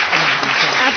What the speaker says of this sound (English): can we just give a round of applause to the entire panel for a fabulous presentation?